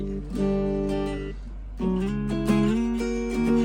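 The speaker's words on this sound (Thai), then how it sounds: "อันนี้เป็นเสียงที่กีตาร์เข้านีแล้วเข้าแอมโดยผ่านมันนะครับ" Electric guitar notes and short chords played through a Cube Baby practice amp, clean and sustained with a pause in the middle, over a low steady hum.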